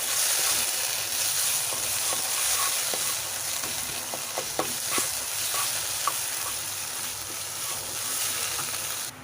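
Spices being stirred with stuffed pointed gourd in a pan for a Bengali potoler dorma: steady sizzling frying with scraping spatula strokes and light clatter, continuous and close, no talk.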